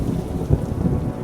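Monsoon rain with thunder in the Melghat forest of India: a low, muffled rumble rolls under a steady hiss of rainfall for just over a second, moderately quiet and without voices.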